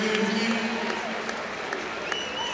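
A crowd cheers and applauds a Fiji try at the 2006 Paris Sevens rugby tournament, a steady wash of distant stadium noise with scattered whistles and claps under a commentator's voice.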